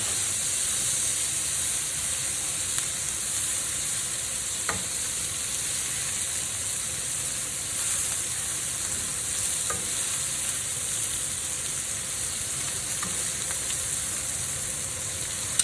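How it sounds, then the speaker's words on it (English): Peppers with minced garlic frying in a hot pan make a steady, loud sizzle and hiss for the whole stretch, broken by a few faint stirring clicks. "And we're going to throw these peppers right in there. Mix that on around."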